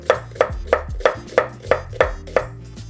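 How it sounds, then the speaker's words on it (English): A knife chops an onion from root to stem for patty melts, about nine crisp, evenly spaced cuts on a board, close and clear. "Let's just cut it root to stem."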